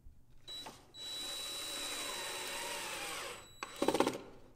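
Drywall screw gun driving a screw into plasterboard: a steady high-pitched motor whine sustained for a few seconds, followed by a brief rattling clatter as the clutch disengages, close and fairly loud.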